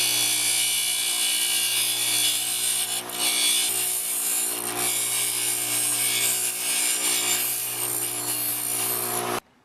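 A bench grinder sharpens carbon arc torch rods with a continuous, loud, close whine and grinding rasp. The sound briefly dips once early on, then runs steadily until it cuts off.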